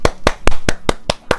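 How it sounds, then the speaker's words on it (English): Seven sharp hand claps in an even, quick rhythm, close and fairly loud, with no talking around them. "Cue the applause."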